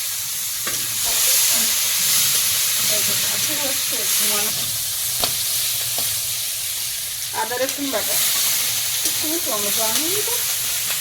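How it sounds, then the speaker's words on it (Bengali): Panch phoron spices, bay leaf and chopped onion frying in hot oil, a loud steady sizzle and hiss that continues throughout, with a voice speaking intermittently over the cooking. "তেলের মধ্যে এখন একটু পাঁচ ফোড়ন দিলাম তেজপাতা দেবো পেঁয়াজ কুচি"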